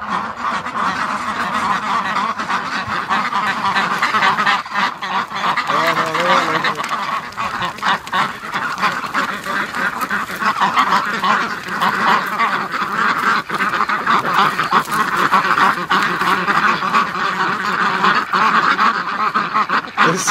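A flock of ducks, Muscovy among them, quacks and honks steadily by a lake in the morning, with the calls overlapping densely and holding at a fairly loud level for the whole stretch.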